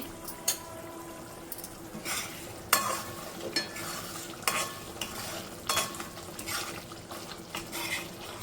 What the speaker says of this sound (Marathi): चला डाळीला फोडणी देऊन घेते तर त्याने बघा डाळीला फोडणी घातली